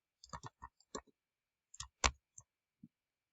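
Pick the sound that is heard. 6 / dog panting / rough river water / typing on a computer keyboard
typing on a computer keyboard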